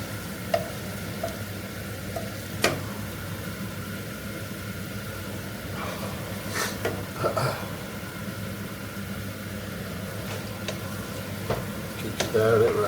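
Vegetable korma paste sizzles and fries in a pan as it is stirred round, a low steady sizzle with occasional sharp clicks and scrapes of the spoon close by.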